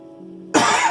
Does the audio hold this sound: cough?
yes